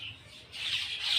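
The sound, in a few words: birds chirping outside a village house door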